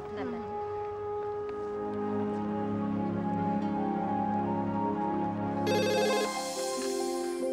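A telephone rings back on an outgoing call, with a patterned electronic ring arriving late and moderately loud over a steady layer of soft tonal background sound.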